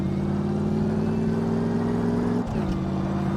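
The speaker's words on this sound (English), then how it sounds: "You can hear the supercharger whine." A muscle car engine in the video game Car Mechanic Simulator 2015 drones steadily with a sustained supercharger whine layered over it, dipping briefly near the end as if shifting, with no talking.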